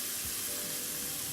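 Red onion sauteing in a pan gives a dense, even, steady sizzle, close and continuous, with no breaks.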